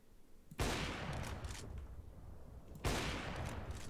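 AK rifle fire in the video game CS:GO, two sudden sustained bursts of rapid automatic shots with a noisy wash, moderately loud and without speech.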